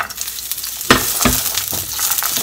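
Garlic sprouts sizzle steadily in a hot pan during a bamboo shoot and beef sauté, with a constant frying hiss and a few sharp clatters as the pieces are stirred.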